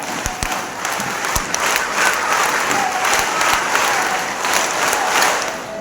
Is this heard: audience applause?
yes